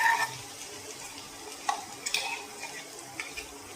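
Dried Bombay duck masala is sautéed in a pan, a faint steady sizzle with light, sparse spoon scrapes and ticks.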